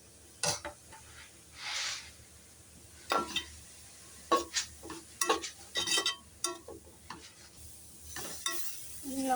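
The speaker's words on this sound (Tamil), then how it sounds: "திரும்பவும் திறந்து கிண்டி விட்டுருக்கலாம்" A spoon stirs cabbage kootu in a pan, producing a series of scraping strokes and light metallic knocks over a faint sizzle, close and irregular.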